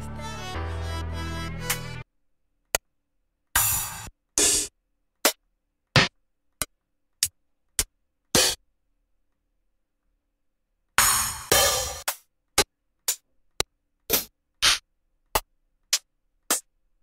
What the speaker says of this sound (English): The closed hats.